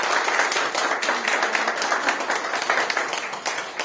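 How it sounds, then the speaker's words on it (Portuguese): Church congregation at a Baptist church anniversary service in Petrópolis clapping together, a dense, loud round of applause with sharp individual claps sustained throughout. "Se você puder dar uma salva de palmas."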